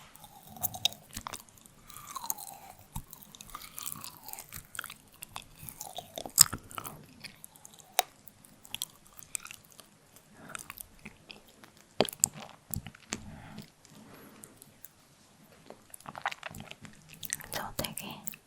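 Close, soft crunching and chewing of chocolate with citrus notes, repeated crisp bites and wet mouth sounds spread across the stretch, with quiet whispering mixed in.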